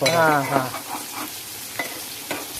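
Goan dried sardine curry stirred in a pan after ginger is added, with soft sizzling and a few light scrapes of the spoon, close and fairly quiet after a short burst of voice at the start.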